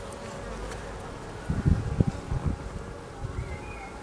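Honey bees at a hive in a cold spring hum in a steady low drone, with a few louder close buzzes and brief handling bumps in the middle.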